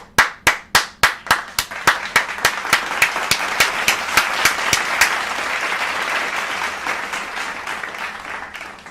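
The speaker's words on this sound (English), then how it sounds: "Clap it up for Mike." Applause for Mike opens with a single person's sharp, evenly spaced claps close by, then swells into a sustained wash of clapping and crowd noise that slowly fades.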